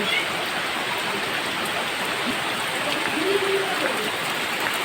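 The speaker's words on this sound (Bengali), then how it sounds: "বাইরে কীরকম বৃষ্টি হচ্ছে" Rain falls steadily outside, a dense, even hiss that holds at constant loudness throughout, with no distinct drops standing out.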